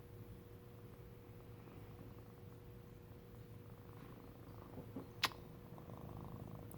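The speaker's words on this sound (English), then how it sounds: "You hear that purr?" A cat purrs close up, a soft continuous low rumble with steady rhythm, briefly interrupted by a sharp click partway through.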